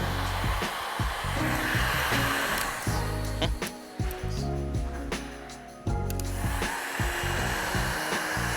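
A heat gun blows hot air across automotive window tint film during a hand-cut windshield tint job, producing a loud, steady close-up roar with a few brief dips as it is swept back and forth.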